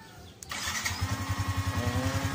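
A Honda Sniper 150 motorcycle engine starts by alarm remote with a brief click, then settles into a close, steady idle with an even pulsing beat.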